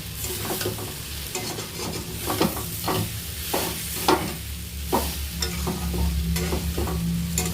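Vegetables fry in a pan while being stirred, with a continuous sizzle broken by repeated scraping and knocking strokes of the spoon every second or so. Nearby and moderately loud, with no voices.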